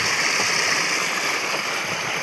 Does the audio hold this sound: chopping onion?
no